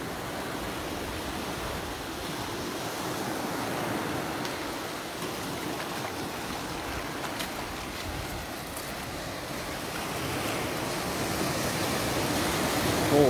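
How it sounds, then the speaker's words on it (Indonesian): Strong ocean waves at night on the coast at Mersing, a steady roaring wash of surf filling the whole stretch, continuous and fairly loud with no clear speech. "Ombak agak kuat lah malam ni."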